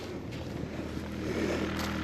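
Polaris snowmobile fitted with a ForceTurbos HyperLung turbo kit and a stage 2 clutch kit, running on 91 fuel: a loud, steady engine roar up close that swells slightly near the end, with wind buffeting the microphone.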